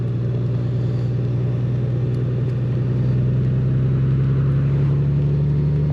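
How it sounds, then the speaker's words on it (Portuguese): A motorcycle engine hums steadily at low revs while riding in, arriving to park near the Route des Crêtes, a constant close drone with the pitch creeping slightly upward. "Posso pôr a moto aqui."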